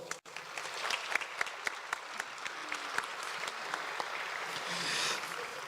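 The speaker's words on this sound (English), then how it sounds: "Can you please help me in giving them a warm round of applause?" Audience applause at a university graduation ceremony for arts and social sciences, steady clapping from a large crowd sustained for several seconds and swelling slightly near the end.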